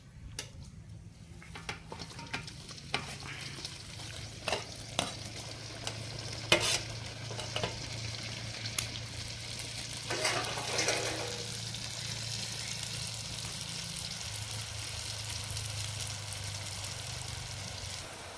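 Batter for honey candy dropping into hot oil, a steady close frying sizzle dotted with sharp ticks and clinks of a utensil, with a brief louder bubbling burst midway before settling back to a gentle hiss.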